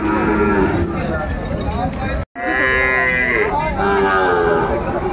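Sahiwal bulls at a cattle market give long, loud, close moos that fill the clip, with a brief break midway, over a bed of crowd chatter.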